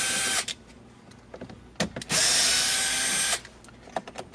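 A cordless power drill with a Phillips bit runs screws while an Acura TLX car stereo is removed, with a brief whir followed by a longer steady burst, close and loud, with quiet clicks between.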